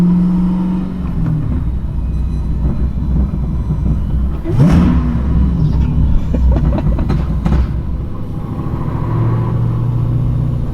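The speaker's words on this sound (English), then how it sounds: "Listen to this burble tune though." Exhaust burble from a 1000 hp Driftcat with a six-speed swap, a loud, close, deep rumble with popping and crackling bursts and a rising rev in the middle.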